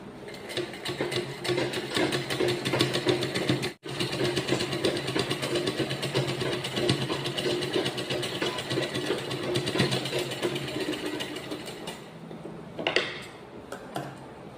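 A sewing machine stitches a school uniform collar with a rapid, steady mechanical whir and ticking, running nearly continuously with a brief pause early on and a small clack near the end, no talking.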